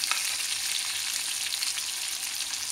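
Fenugreek and coriander seeds fry in a pan with a dense, continuous sizzle and crackle, close up and steady throughout.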